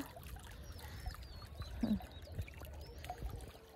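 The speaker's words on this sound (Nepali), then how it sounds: "कुलो बनाइसकेपछि यसरी पानी हाल्नुपर्छ" Water pours steadily into an irrigation channel dug through a maize field, a faint, continuous trickle heard outdoors with a slight surge near the middle.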